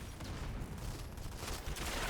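Gunfire exchanged between teams in a PC shooter esports match, a dense, continuous rattle of overlapping shots at a steady level with no talk.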